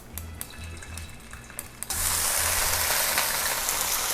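Ground beef dropped into hot vegetable oil over high heat, bursting into a loud, steady broadband sizzle after a quieter stretch of low kitchen hum and light clatter, continuing close and unbroken.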